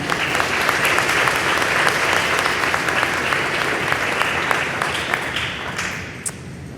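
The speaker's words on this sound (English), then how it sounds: "Give yourselves a round of applause" Applause from graduating eighth-grade students and families at a school promotion ceremony, a dense, loud, steady wash of many hands clapping that holds for several seconds before thinning out near the end.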